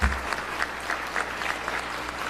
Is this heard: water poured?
no